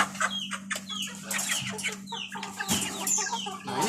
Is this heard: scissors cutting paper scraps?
no